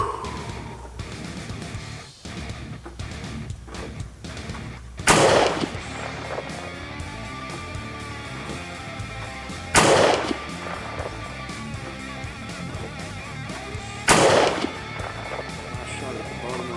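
Three sharp, loud rifle shots from 47-grain handloads crack out several seconds apart on a shooting range, each followed by a brief ringing decay over low background noise.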